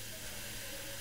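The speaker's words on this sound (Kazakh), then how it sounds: "қазанымызға салып, үстіне 2 қасық томат пастасын салып бірге қуырамыз" Chopped tomatoes and two spoons of tomato paste frying with meat and onions in a kazan pot for Uyghur manpar soup. A faint, steady sizzling hiss holds evenly throughout with no voices.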